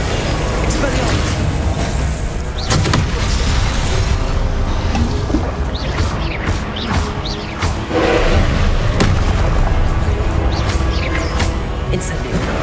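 Expelliarmus spell blasts from Hogwarts Legacy, a run of loud, booming magical bursts and pops over dense game noise and music, with a voice talking over it.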